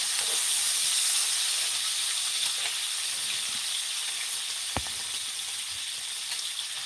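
Food fries in hot oil in a pan, with a continuous close, even sizzle and crackle and a single brief clatter partway through.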